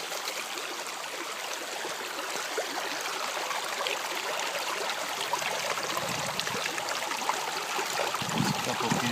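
Water rushes steadily through a gold prospecting sluice in the San Gabriel area, a dense, even hiss and gurgle that stays close and continuous throughout.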